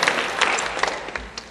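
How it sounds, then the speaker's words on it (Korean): A church congregation at a Korean Sunday worship service in Brazil breaks into warm applause, a dense, steady clapping that fills the room and tapers slightly toward the end. "이 말씀을 주신 주님께 다시 한번 감사의 박수 올려드립니다"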